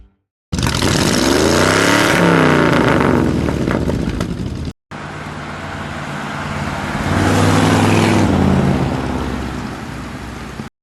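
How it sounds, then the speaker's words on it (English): A 1955 Chevrolet Bel Air's V8 engine revs in two long loud surges, each rising and falling, with a brief break between them and a rough, rumbling exhaust tone. "The rumble of the V8, the smooth acceleration, the thrill of the open road."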